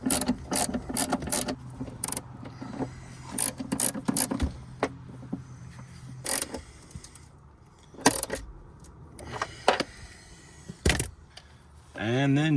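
Ratchet tightening the battery bracket nuts on a Dodge Durango: close, intermittent bursts of clicking and metallic clatter with pauses between, plus some handling noise.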